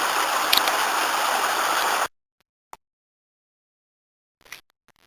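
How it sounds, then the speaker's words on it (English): A small stream flows on a walk near an old Welsh farmhouse, a close steady rushing hiss for two seconds that cuts to silence with only brief faint knocks. "There's this little stream."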